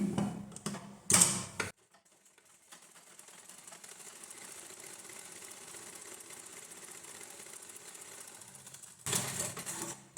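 Stitching a blouse seam, a sewing machine hums quietly and evenly for several seconds, framed by louder bursts of handling noise at the start and end.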